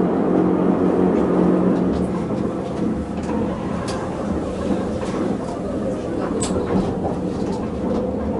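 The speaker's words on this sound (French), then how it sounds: "C'est ici qu'on croise toute la journée avec le train qui descend." A rack railway train on the Montreux-Glion-Rochers-de-Naye mountain line runs with a steady, loud rumbling drone and occasional faint clicks, heard from on board without talk.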